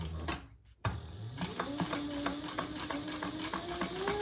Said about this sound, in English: I'm gonna stitch that, top stitch.